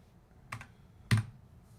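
A computer keyboard shortcut pressed in a mixing-console setup: two short clicks, one soft and one sharper and louder, with no talking.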